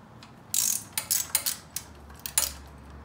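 A hand ratchet loosening 4 mm Allen head bolts on a Yamaha YFZ450 ATV, a run of sharp, close metallic clicks in uneven bursts of a few strokes each, with no speech.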